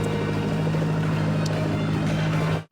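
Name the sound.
fishing boat motor running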